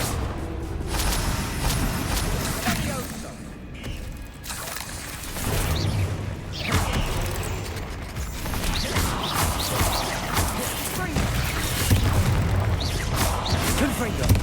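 Spell explosions from Bombarda and Confringo in the video game Hogwarts Legacy, a run of repeated booming blasts and crashing impacts over a dense, busy combat din, with voices shouting throughout.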